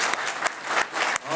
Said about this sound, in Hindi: एक जोरदार ताली के साथ आप अपना भी स्वागत करें